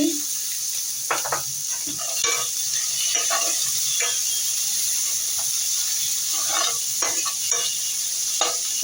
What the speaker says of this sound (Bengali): টমেটো হালকা একটু ভেজে নেব